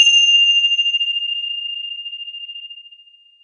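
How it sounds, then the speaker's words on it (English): A single bell struck during a gratitude workshop at a yoga club, giving one clear, bright ringing tone that fades slowly over about three seconds, heard alone with no talk. "please listen to the sound of the bells"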